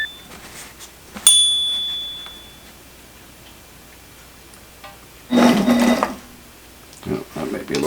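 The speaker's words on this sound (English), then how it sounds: "I've actually got it placed into the sewing machine, and now I'm just going to stitch the edges all the way around." A sewing machine stitches around fabric edges in short bursts of close, whirring motor and needle clatter, with a bright click and pauses between runs.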